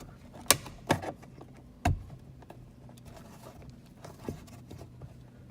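Plastic trim pried off a Tesla Model 3 with a plastic tool gives three sharp snapping pops in the first two seconds, followed by softer faint clicks and handling noises.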